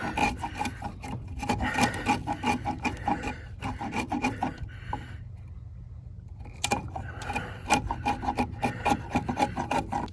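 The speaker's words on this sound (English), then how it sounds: "flatten it out with a good sharp chisel" A sharp chisel pares wood flat while building a pig feeding station, making a steady run of close, scraping strokes that pause briefly midway and then resume, with no talk.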